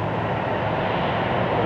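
A Delta airliner takes off at Chicago O'Hare at night, giving a steady, loud, broadband jet engine roar that holds without a break.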